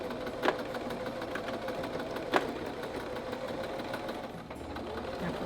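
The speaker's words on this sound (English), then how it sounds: "then stuck it in the machine to sew it in place" A sewing machine runs steadily while stitching the pleats of a fabric face mask, a continuous mechanical hum with a few sharp clicks standing out, fairly close and with no talking.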